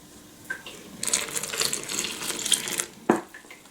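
Milk poured into a well of flour while mixing goat's milk bread dough, a soft trickling, splashy pour in bursts over a quiet kitchen background, ending with a brief clink.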